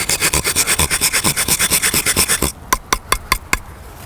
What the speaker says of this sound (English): take the drywall and take a rasp